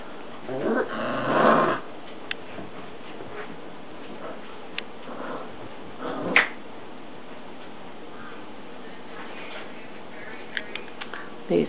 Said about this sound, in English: These puppies are so cute.